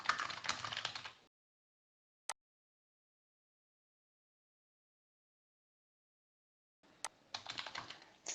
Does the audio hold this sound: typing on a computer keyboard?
yes